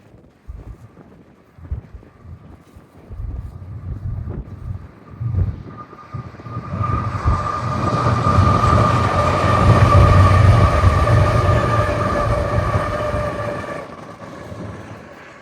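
Union Pacific locomotive 6178 leads a helper set past on the Provo Subdivision in Utah, with a rising roar and a steady high engine whine, wind buffeting the microphone, then the noise slowly fades.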